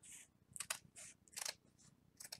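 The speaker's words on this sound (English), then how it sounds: "you're going to just want to trace with your scissors" Scissors snip along a traced circle on fabric for a no-sew dice bag, a quiet run of irregular close cuts with short gaps, some crisp and some soft.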